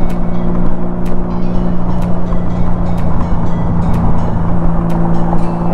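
Motorcycles riding along Interstate 75 North toward Atlanta, their engines a loud, steady, close drone with constant wind and road roar and no talk.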